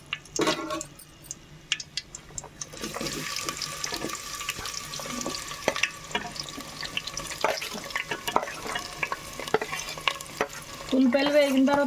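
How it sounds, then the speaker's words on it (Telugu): Onions and green chillies frying in hot oil, stirred in the pan: a steady, close sizzling hiss with scraping stir strokes, swelling to a louder burst near the end. "నూనె వేడైన తర్వాత ఉల్లిపాయలు పచ్చిమిరపకాయలు అయితే వేసుకొని వేపుకుందాం"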